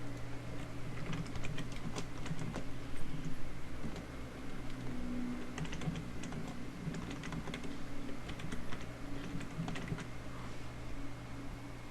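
Soft, rapid tapping on a computer keyboard, continuous irregular key clicks at low level, close and alone.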